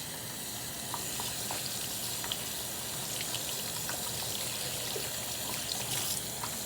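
Steady broadband hiss of water running from a tap during hand washing, continuous and fairly close, with faint clinks in the background and no talking.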